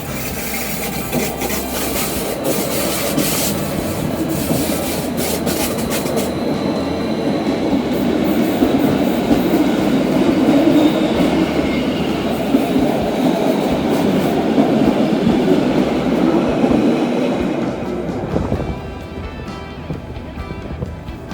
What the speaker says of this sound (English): Regularly trains have to pass each other. Here we meet the train to St.